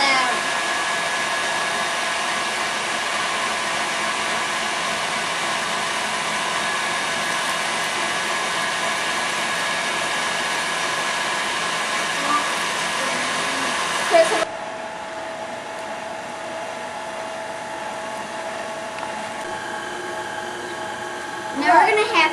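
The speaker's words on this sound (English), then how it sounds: "I'm going to turn off the mixer." An electric mixer whirs continuously while beating cake batter for a Valentine cake, a loud steady drone that drops to a quieter hum partway through, with a few faint knocks at the end.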